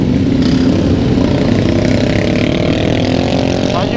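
A motorcycle engine drones steadily while riding, loud and close, with a rough mid-pitched rumble throughout.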